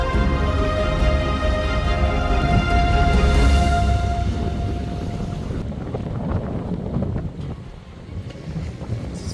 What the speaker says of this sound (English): Here the wind doubles. It's gusting over 25 knots, but we're going downwind